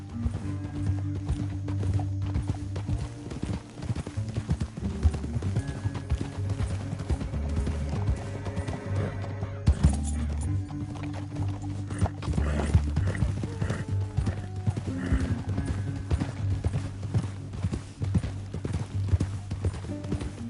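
Steady clip-clop of horse hooves at a quick gait in the video game Red Dead Redemption 2, continuous and fairly close, layered with music and an occasional whinny.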